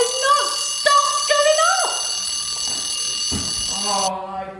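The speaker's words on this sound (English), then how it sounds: "alarm clock has" An alarm clock rings loudly and continuously with a shrill electronic tone, overlaid by other sliding tones and sound effects before it cuts off near the end.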